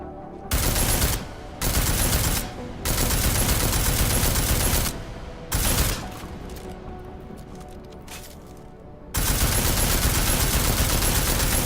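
Long bursts of automatic gunfire hammer an armored target in Deus Ex: Mankind Divided, loud and close, broken by short pauses and a quieter stretch before a final sustained burst.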